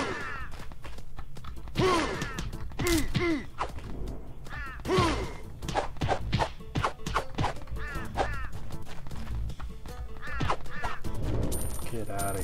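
Birds quack and honk repeatedly in a video game, loud, close duck-like calls in irregular bursts over game sounds and thuds.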